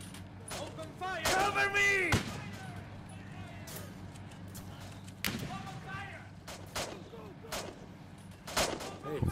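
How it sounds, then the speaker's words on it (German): Explosions and gunfire in the World War II shooter Easy Red 2, with tanks nearby: several sharp blasts and cracks, one louder burst early on, with a voice talking over the battle. "Also es ist was explodiert"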